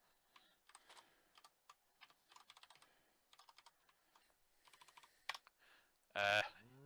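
Typing on a computer keyboard, heard as quiet, close keystrokes that come in irregular bursts of rapid clicks with short pauses between them, followed by a louder, brief tonal sound at the end.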